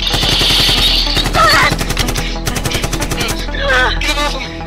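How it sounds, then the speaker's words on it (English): Rapid bursts of loud gunfire rattle at close range, aimed at a zombie's legs. Shouting voices break in over the shots. "Shoot the legs! Shoot the legs!"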